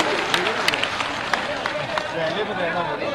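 A large outdoor crowd at a political rally in Morena claps and cheers in a dense, continuous roar of applause, with sharp individual claps standing out against the steady hubbub.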